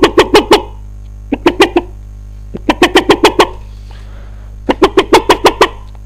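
A loud chicken-clucking sound effect plays during a Mann vs Machine match, in rapid bursts of four to six clucks separated by short pauses.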